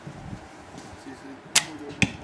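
Arrow loosed from a bow: two sharp, close whooshing snaps about half a second apart over quiet outdoor background.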